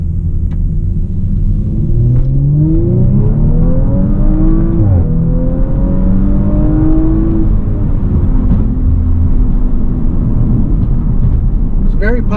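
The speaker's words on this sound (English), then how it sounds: "now we're going to take the RS5 out for a little drive and see how it does" A 2019 Audi RS5 in automatic mode, with an 8-speed torque-converter gearbox, accelerates hard on a drive. The loud engine note climbs and drops through several upshifts, then settles into a steady cabin rumble.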